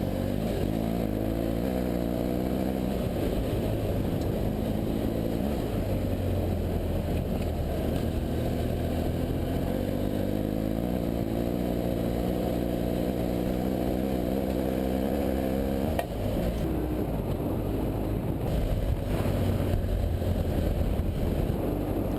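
BMW F800GS motorcycles ride a deserted road, their engines droning steadily and loudly with rising and falling pitch as they gain speed, plus heavy wind rush throughout.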